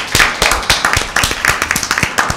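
Children at a school Bible quiz clap to welcome the guests with sharp, close, somewhat uneven hand claps in a loose rhythm that tapers off after a couple of seconds.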